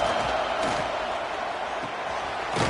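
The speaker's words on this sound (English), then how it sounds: "Listen to this crowd just shaking the girders of this place, trying to help their defense." Football stadium crowd during a game against Florida, a dense sustained roar of many voices cheering to support the defense, steady and loud throughout with faint swells near the end.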